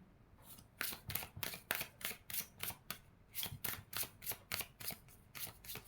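Guidance cards for a tarot-style reading being shuffled up close, a quiet, rapid run of papery riffles and flicks in an even rhythm with no talk.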